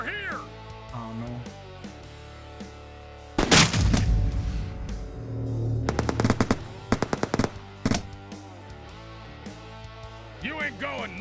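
Bursts of gunfire from the video game Tony & Clyde, with two loud stretches of rapid automatic fire separated by quieter gameplay sounds and tonal background music, plus a few shorter shots near the end.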